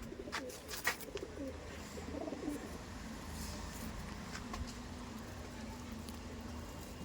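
Madrasi pigeons coo softly in low, murmuring tones, with a few faint clicks and rustles in a quiet background.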